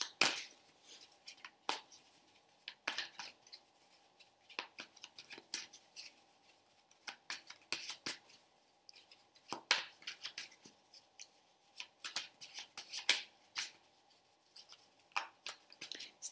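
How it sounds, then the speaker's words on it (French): An Illuminati Tarot deck being shuffled by hand, giving quiet, crisp card clicks and riffles in irregular bursts, close up with no talking. "C'est un jeu qui est très très agréable à brasser, à mélanger."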